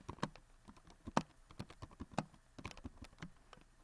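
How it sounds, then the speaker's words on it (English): Quiet, close typing on a computer keyboard while setting up a document, a steady irregular patter of key clicks with a few louder strokes, no voices over it. "I can go ahead and start typing here."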